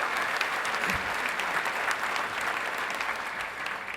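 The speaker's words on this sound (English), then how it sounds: "Can we have a round of applause to the staff again?" A luncheon crowd at a United Way awards event applauds the staff with a steady, full round of clapping from many hands that fades slightly toward the end.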